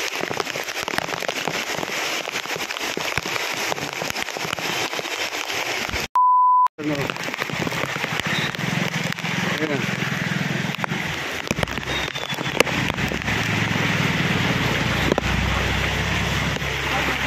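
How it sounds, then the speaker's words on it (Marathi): Heavy rain pours down in a dense, continuous hiss and patter of drops on surfaces, broken briefly near the middle by a short electronic beep before the downpour resumes. "भरपूर पाऊस आता धो धो धो धो पाऊस चालू आहे"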